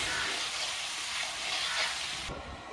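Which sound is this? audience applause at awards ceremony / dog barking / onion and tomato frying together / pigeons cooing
onion and tomato frying together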